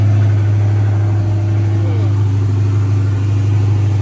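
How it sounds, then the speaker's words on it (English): A Dodge Hellcat engine idles loudly and steadily up close, a deep constant hum with a faint rumbling pulse throughout. "my car is running perfectly fine"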